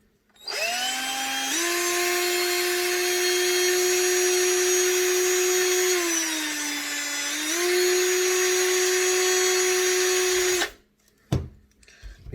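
A power drill bores through the plastic interior of a Ford 15 CWT van, a loud sustained whine that dips in pitch midway under load, then stops abruptly, followed by a couple of faint knocks.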